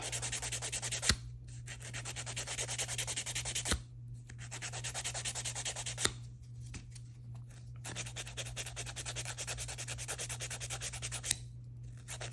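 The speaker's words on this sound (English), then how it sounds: "I like to file before I do any drilling or anything" An acrylic nail is filed in rapid back-and-forth rasping strokes, close and steady, broken by a few short pauses and faint taps, over a constant low electrical hum.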